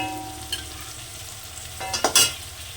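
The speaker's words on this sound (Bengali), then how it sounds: "আবার আমি হালকা করে একটু কষে নেবো আদা রসুনের কাঁচা গন্ধটা যতক্ষণ যায়" Ginger-garlic paste frying in a pan for a chicken ghugni with chui jhal, a continuous sizzle followed by a quick burst of louder scraping stirs near the end, close up with no voices.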